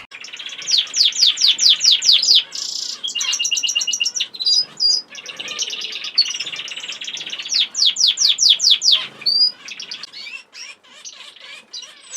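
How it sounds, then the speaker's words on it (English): Fife canaries sing in an outdoor aviary flight, a close, loud stream of rapid trilled chirps and warbling phrases in repeated bursts, with no talking. "The Fife Canaries are still in good voice."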